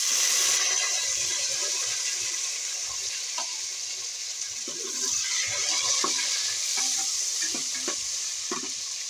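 Tomatoes frying in a pan for a cabbage curry make a steady close sizzle, with scattered stirring scrapes and light clatter over the hiss and no voices.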